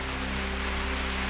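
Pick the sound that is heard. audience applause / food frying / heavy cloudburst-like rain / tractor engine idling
heavy cloudburst-like rain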